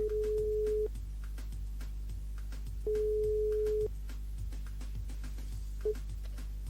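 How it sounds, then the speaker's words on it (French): A telephone ringback tone sounds while a radio show calls a listener: two long steady beeps separated by a pause, then a brief third beep starting, fairly faint over a low hum. "Attends, on appelle Émilie"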